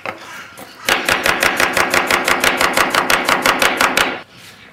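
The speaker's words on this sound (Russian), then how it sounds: "Режу полукольцами лук." An onion being sliced into half rings with a knife on a cutting board, about twenty quick, evenly spaced chops in a steady rhythm, close and crisp, with a brief pause before it starts and after it stops.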